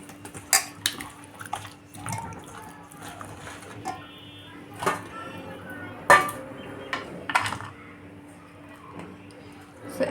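Fish pieces being coated in masala paste in a pan for a Bengali fish masala curry, heard as scattered clinks and soft wet scraping of a utensil against metal, with quiet clatter in a room.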